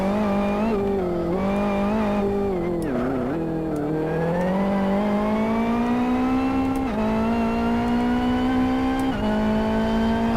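Race car engine in the video game Live for Speed, a loud continuous drone that drops when shifting down through a corner and then climbs steadily through the gears, with faint tire squeal, no talking.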